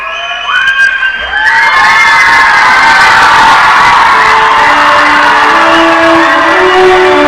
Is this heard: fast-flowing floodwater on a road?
no